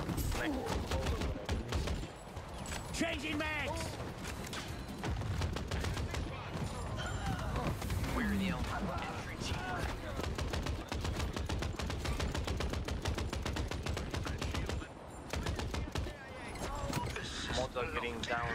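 Heavy video game gunfire in a city crime setting, dense bursts of automatic shots and overlapping rapid fire running almost nonstop, with voices talking over the combat.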